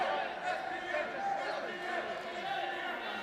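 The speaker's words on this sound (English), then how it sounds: "SPF getting a big crowd reaction here in Hazleton" Wrestling crowd at a PPW Heat Blast independent show in Hazleton, reacting steadily with dense cheering and shouting that stays fairly loud throughout.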